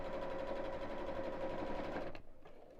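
A home sewing machine runs continuously along a cushion cover seam, a close, steady whirring rattle that stops abruptly near the end, leaving a couple of faint clicks.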